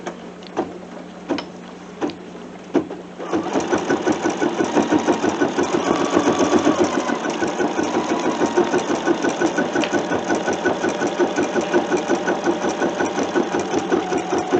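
A sewing machine runs steadily, stitching a small bean stitch along the outside edge of a kitchen towel, with a fast even mechanical patter after a few soft taps and a brief pause at the start.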